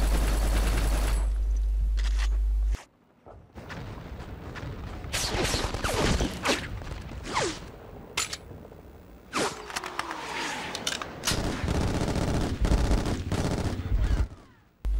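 M16 rifle fire in Black on PS2, played on hard difficulty at a bridge: sharp bursts of automatic gunshots with ringing echoes and clattering shell sounds, stopping and starting with short pauses amid other battle noise.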